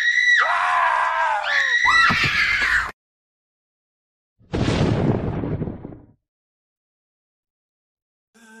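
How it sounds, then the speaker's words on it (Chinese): Screaming in pain from a dramatized dragon-world audio story: a loud, wavering shriek, then a second burst of anguished cries, separated by silence. "整个神龙山脉响起了痛苦的尖叫声。"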